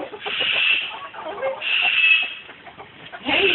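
A pet hen clucking close up in short repeated bursts, loud and slightly harsh, with brief gaps between them.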